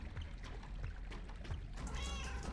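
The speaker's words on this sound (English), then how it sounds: "Oh, it's a cat." Cat meowing in the video game Super Crazy Rhythm Castle, several short mews over a constant game background bed, close and clear, ending with a longer drawn-out wavering meow.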